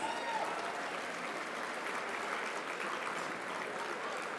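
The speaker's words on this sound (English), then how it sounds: "Can we give the service staff a round of applause, please?" Dinner guests at a university achievement celebration applaud the service staff, a continuous wash of clapping from a large room, steady and moderately loud with no speech on top.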